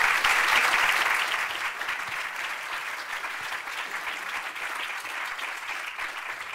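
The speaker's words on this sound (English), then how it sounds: "Could we have a quick round of applause for our panel" Brief round of audience applause for a conference panel, a dense burst of clapping that starts strongest and settles into a steady, slightly quieter patter, with no talk over it.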